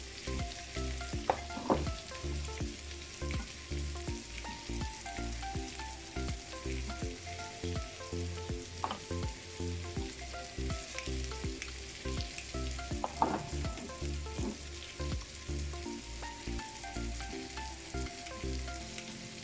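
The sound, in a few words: onions frying and sizzling in a pan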